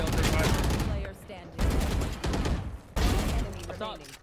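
Rapid bursts of gunfire from the Valorant video game, three loud volleys in quick succession, with excited player voices talking over and between the shots.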